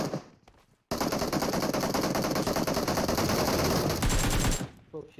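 Sustained automatic rifle fire in PUBG Mobile, a loud rapid stream of shots lasting several seconds with a short change in pitch near the end, briefly preceded and followed by talking voices.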